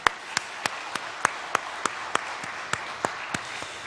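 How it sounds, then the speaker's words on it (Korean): Church congregation at Siheung Church's 117th-anniversary Sunday service clapping in unison, about a dozen sharp, evenly spaced beats roughly three per second over a soft background of scattered claps. "지금까지 지켜주신 하나님께 우리 감사와 영광의 박수를 올려보내겠습니다"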